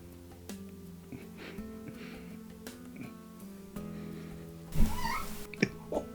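A cat meows a few times over a low steady hum, with a louder, fuller cry near the end.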